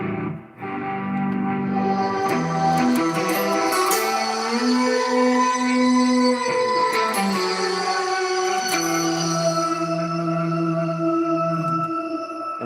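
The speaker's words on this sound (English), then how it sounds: "Now I'm going to add the shimmer delay." Electric guitar played through a shimmer delay effect swells into sustained, organ-like chords with glistening high trails and echoes, the notes shifting slowly and ringing on continuously without any talking.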